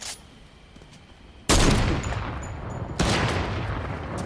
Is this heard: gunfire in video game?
yes